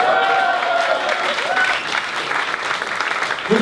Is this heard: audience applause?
yes